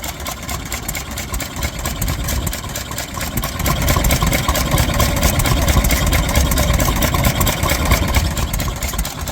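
A vintage Southern Cross stationary engine runs steadily at an outdoor machinery rally, its low chugging beat continuous and close, growing a little louder partway through with no talk over it.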